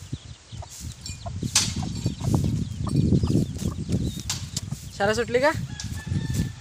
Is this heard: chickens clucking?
yes